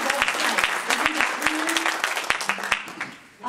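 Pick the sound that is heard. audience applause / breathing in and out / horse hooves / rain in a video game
audience applause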